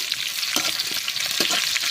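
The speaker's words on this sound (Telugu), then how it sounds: "నూనె వేడెక్కిపోయింది. మిరపకాయలు వేసుకుంటున్నాను, మాడకుండా వేసుకోండి." Dried red chilies frying in hot oil, with a steady, close crackling sizzle and occasional louder pops throughout, no voices.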